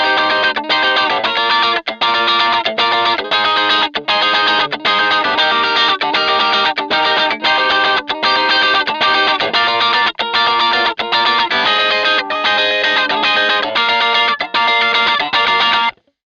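Electric guitar with a chorus-effect tone set up to imitate a song, playing a dense, continuous rhythmic part with slight distortion, loud and sustained throughout before cutting off.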